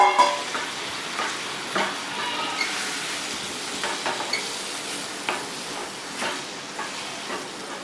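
Mutton mixed with curd stirred and fried in a pan for mutton chukka, a steady close sizzle broken by repeated scraping stirs, with no talk.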